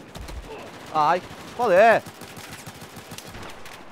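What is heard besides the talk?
gunfire in video game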